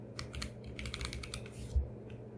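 Quiet typing on a computer keyboard during a data workshop, a short run of soft rapid keystrokes lasting a couple of seconds, with no talking.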